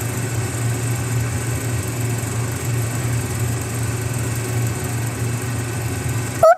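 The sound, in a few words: excavator engine running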